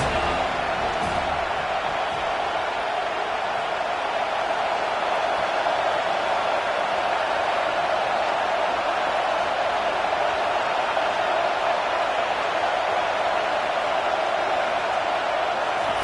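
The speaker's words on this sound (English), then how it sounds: "Big third down as the crowd gets behind this defense." A college football stadium crowd roars steadily behind the defense on a big third down, a dense, unbroken wall of cheering and noise that holds at the same loud level throughout.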